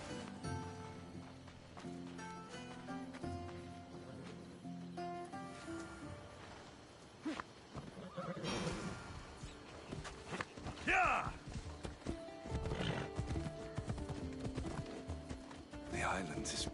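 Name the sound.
horse galloping and neighing in Assassin's Creed video game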